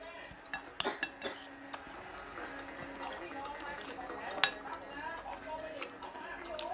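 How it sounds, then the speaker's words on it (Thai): Ivy gourd leaves being stir-fried in a pan: a metal spatula scrapes and clinks repeatedly against the pan in quick, irregular strokes, with a sharper clank partway through and voices murmuring in the background. "ผัดผักไห"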